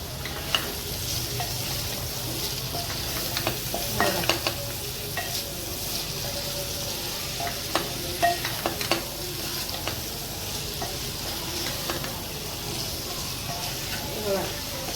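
Kantoli vegetable fries in a pan after salt is added while a spatula stirs it, a continuous loud sizzle broken by frequent scraping and clicking strokes, with a voice talking faintly in places.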